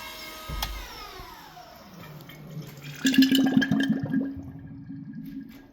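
A Volvo electric power steering pump fitted to a Nissan D21 Hardbody pickup runs loudly, first as a whirring hum, then as a harsh, rattling buzz with a strong tonal whine, close up and uninterrupted.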